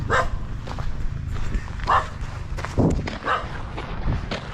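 Several dogs bark in short bursts at intervals, moderately close, over a murmuring background.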